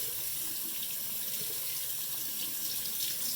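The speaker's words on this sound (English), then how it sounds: "Just run them under some nice cold water before we get on to the cutting." Cold tap water runs continuously over freshly made card tokens, a steady close hiss of flowing water into a sink with no voices.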